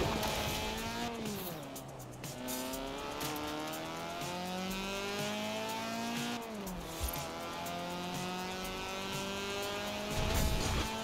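A wide-body drift conversion car in the Forza Horizon 4 racing game drifts along city street corners in Edinburgh, its engine revving and tires squealing continuously with rising and falling pitch sweeps, loud and close.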